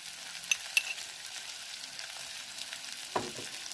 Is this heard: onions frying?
yes